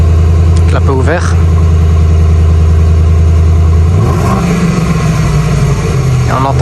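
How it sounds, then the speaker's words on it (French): Mercedes GLS 63 AMG V8 idling with its exhaust valves open, a loud steady low rumble that steps up into a brief rev near the end, with people talking over it. "Clapet ouvert."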